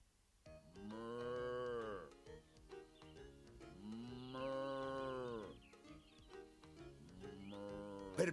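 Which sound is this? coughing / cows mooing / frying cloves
cows mooing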